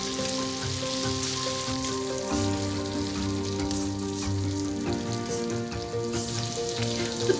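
Gobi namul (bracken) stir-fries in a pan with a steady, close sizzle and crackle throughout, and a tonal musical hum runs underneath.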